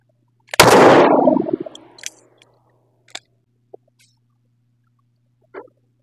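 A single sharp, loud gunshot from a 6-inch Ruger GP-100 revolver at an outdoor range, a sudden crack with a short decaying ring, followed by a few faint clicks and small knocks.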